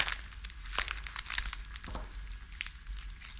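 Wrapping paper and plastic film crinkle and rustle as they are handled around a flower bouquet. Scattered crisp crackles come close to the microphone, some louder than others, with no voice over them.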